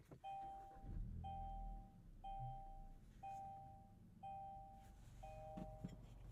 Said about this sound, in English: Those are some cheery chimes to start things off